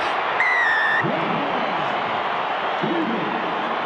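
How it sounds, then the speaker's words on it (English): A large stadium crowd at a Bulls versus Benetton rugby match gives a sustained, broad roar of cheering while a commentator talks over it. "Now the crowd's come alive."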